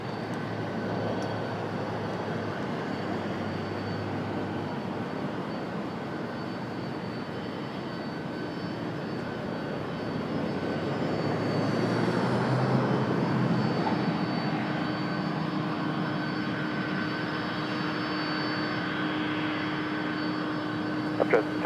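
Airliner taking off from runway 30 at an airport with calm wind, a steady, distant engine roar that builds slightly midway and holds as a broad sustained rumble.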